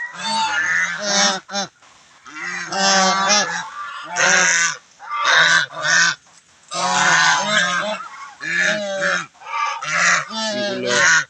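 A large flock of farm fowl in a rural provincial yard raises a loud, constant racket of overlapping honking calls, close by and almost without pause.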